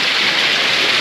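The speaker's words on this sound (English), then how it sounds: "Sheltering from the rain. Wow. It's been constant, non-stop." Constant heavy rain heard from under a shelter along the Camino Invierno in Spain, a loud, unbroken wash of falling water with no voices.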